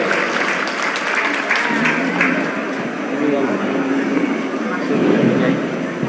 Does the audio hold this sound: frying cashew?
no